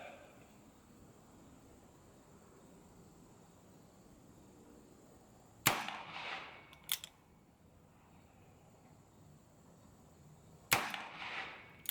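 Colt Trooper Mark III revolver with an 8-inch barrel firing .38 Special rounds at a range, two sharp shots with short echoing tails, one around the middle and another near the end, over quiet background.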